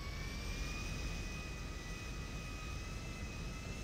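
A jet aircraft in GTA 5 drones with a steady, even engine roar and a faint high whine, constant and unbroken throughout with no voices.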